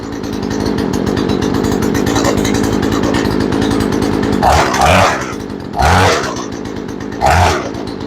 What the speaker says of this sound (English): Now we'll adjust it for idle.